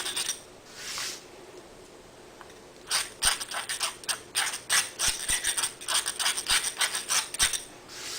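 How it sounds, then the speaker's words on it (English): A rapid run of dry rasping strokes, close and steady, as paper edges are filed down on a washer, starting after a few seconds of near quiet with a short scrape near the start. "And also filing towards the back of the washer"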